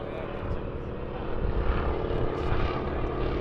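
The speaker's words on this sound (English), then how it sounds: "The aircraft, 1940s Boeing Stearman biplanes." 1940s Boeing Stearman biplane propeller engine performing at the Farnborough International Air Show: a loud, steady droning roar that holds throughout and swells slightly as the aircraft passes.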